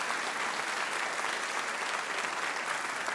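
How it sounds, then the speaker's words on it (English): Audience applause at a Celtic Colours evening concert at the Savoy in Cape Breton, welcoming the Lieutenant Governor of Nova Scotia, dense, even clapping throughout. "A round of applause to welcome them back to Cape Breton."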